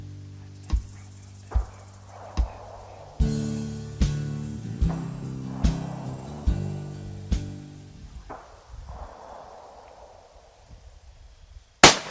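Rifle shots while deer hunting ring out outdoors, a series of sharp loud cracks spaced about a second apart with decaying echoes, followed by a final blast at the end.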